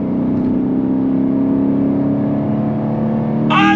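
A 2023 Chevrolet Camaro SS convertible with manual clutch accelerates hard, a loud, close V8 roar climbing steadily in pitch through the gear, ending with a rising whine.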